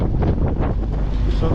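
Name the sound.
wind blowing on a sailing boat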